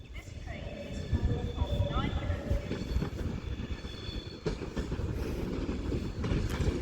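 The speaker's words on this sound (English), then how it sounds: "Now arriving in around the bend is going to be another Avanti West Coast Prideolino for London Euston from Manchester Piccadilly." An Avanti West Coast Pendolino, bound for London Euston from Manchester Piccadilly, rolls into Crewe station with a steady rumble, wheel clicks and squealing tones, while a voice talks over the noise.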